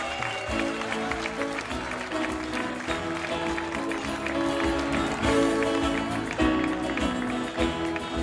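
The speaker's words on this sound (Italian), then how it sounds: "io farei veramente un grande applauso a tutti che sono stati bravissimi" An open-air audience in a town piazza claps loudly and steadily for the cast at the end of a live musical about Mother Teresa, with dense sustained applause and some crowd noise.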